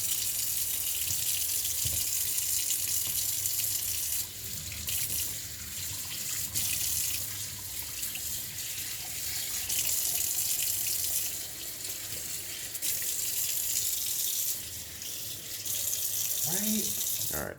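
Vegetables being rinsed under a steady running kitchen tap for bulgogi, water hissing continuously and fairly close throughout, with a few brief splashes and clatters and short bits of speech over it.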